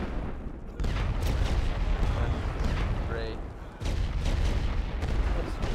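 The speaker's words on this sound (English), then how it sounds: "but I hear some gunshots" Battlefield gunfire and artillery barrage in the World War I game Great War Western Front: a steady rumbling roar of booms and shots, with a brief lull midway, while a player speaks over it.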